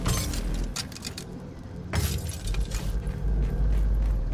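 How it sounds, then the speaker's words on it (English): Glass shattering and breaking in the Grounded video game, several crashes and smashes over a low rumbling game background, fairly close and moderately loud. "I can hear a load of some smashing glass."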